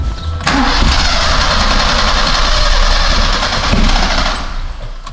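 Engine cranking and catching, then running at a loud, steady rumble for several seconds, heard up close with no speech.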